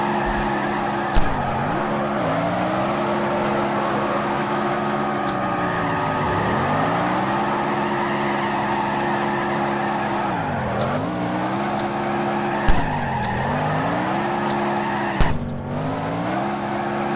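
A drift car in the video game CarX Drift Racing Online: a continuous high-revving engine howl with tire squeal, its pitch dipping and rising as the car shifts between drifts, with occasional sharp clicks.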